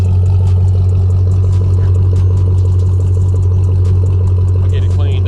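A pickup truck with 222,000 miles on it idles at a car show in a steady, low, even rumble, close and fairly loud, with faint background noise around it.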